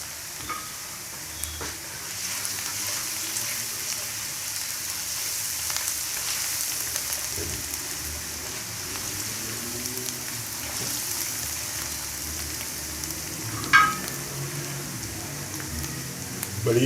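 Finely chopped onions sizzle in a frying pan with ginger and garlic for kachnar keema chicken, a steady close hiss of oil throughout with faint stirring and a brief clatter near the end.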